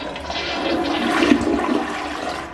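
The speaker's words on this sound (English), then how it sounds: "you'll just flush the toilet" A household toilet flushes in a bathroom, a continuous close rush of swirling water that swells midway and holds for a couple of seconds.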